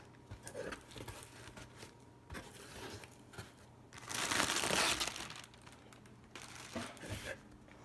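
Someone cuts open a package, with crinkling and crushing of wrapping at close range and a louder rustling burst partway through.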